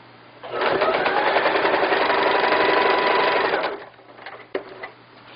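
A sewing machine stitches a double-folded hem on a floral skirt, running in one steady, close whirring burst for about three seconds. It then stops, followed by a few short mechanical clicks and taps.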